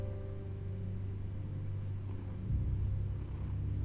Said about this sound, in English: Oh, that's an ugly cat.